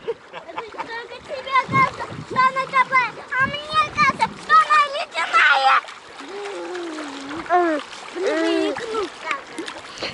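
Children shout and chatter excitedly while playing in the water at a sandy lake beach, with splashes mixed among their high voices throughout.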